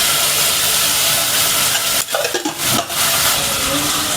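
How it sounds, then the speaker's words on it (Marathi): Jackfruit vegetable frying in oil in a home kitchen, giving a loud, steady broadband sizzle that dips briefly partway through before resuming. "पूर्ण गोल्डन कलर होईपर्यंत आपण ह्याला फ्राय करणार आहोत"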